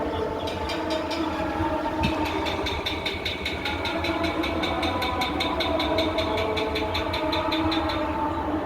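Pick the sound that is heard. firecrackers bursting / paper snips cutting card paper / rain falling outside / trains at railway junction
trains at railway junction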